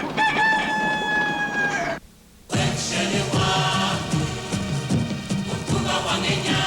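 A rooster crows loudly, followed after a short pause by a busy stretch of layered music.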